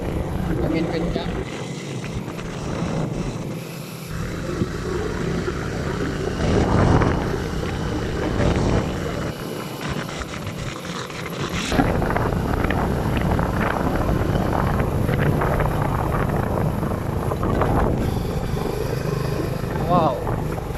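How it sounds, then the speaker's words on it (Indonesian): Strong wind at Labuhan Haji harbour buffets the microphone in a steady, rumbling roar that rises and falls in gusts, with people talking over it throughout. "Angin kencang."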